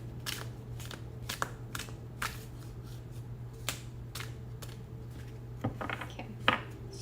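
Tarot cards shuffled by hand in a series of soft, papery riffles and snaps, close and fairly quiet over a steady low hum.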